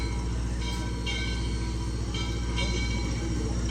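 Rumbling train noise from the Missionary Ridge Local steam train, a steady low mechanical drone with faint rhythmic clanks, heard close and continuous on a rainy day.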